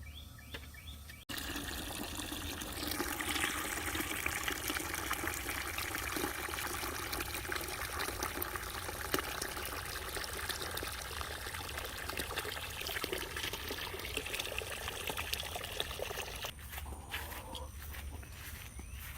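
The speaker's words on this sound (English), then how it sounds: "Now we're going to fill it up almost to the top with water." Water pours steadily from a hose into a garden bucket holding straw and manure, a continuous rushing splash that runs unbroken for most of the stretch after a brief quiet start.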